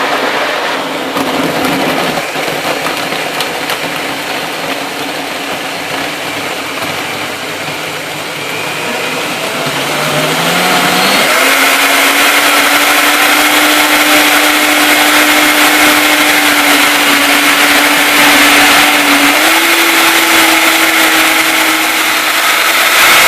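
An Optimum 9900 commercial blender whirs through raw sweet potato soup, its motor starting low and climbing in pitch as the speed dial rises, settling into a loud, steady high whine.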